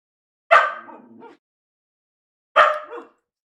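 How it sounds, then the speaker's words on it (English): Two short, loud indoor dog barks from puppies, spaced about two seconds apart, each a sharp yelp trailing off, with silence between. "The dogs say good morning as well."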